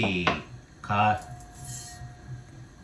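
A spoonful of mustard seeds goes into a cooking pan of heating oil for carrot curry, giving a faint metallic clink and light rattle, with a voice talking over it.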